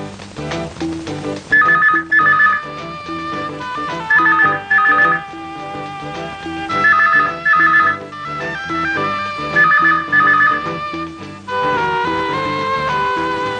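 A telephone rings with a repeating electronic ringtone melody in bursts of two over about thirteen seconds, loud and close, before a call is answered at a lawyer's home in a Malayalam film scene.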